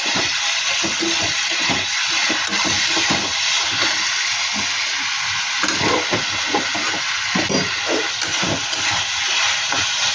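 Spice masala with salt fries in a pan for a bhola fish curry, a constant hissing sizzle broken by frequent scraping stirs, fairly close and with no talking.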